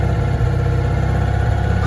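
Citroen 2CV engine with a single-barrel carburetor idling close by, a loud, steady low chugging drone that holds even throughout the short stretch.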